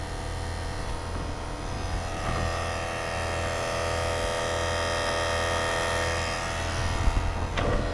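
An HVAC vacuum pump runs steadily on an air conditioning system during a TXV replacement, a continuous droning mechanical hum with no talk.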